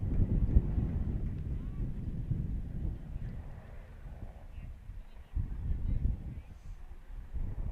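Gusty wind buffets the microphone at an outdoor youth baseball tournament, with low, uneven rumbling surges that swell and fade. Faint speech is barely audible underneath.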